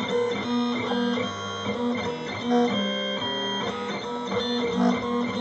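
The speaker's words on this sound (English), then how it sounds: "the machine should start cutting now for you" A Silver Bullet electronic cutting machine cutting glitter fun foam makes a steady, close mechanical whirring with rhythmic motor pulses and shifting tones as the carriage moves, continuous and alone with no voices.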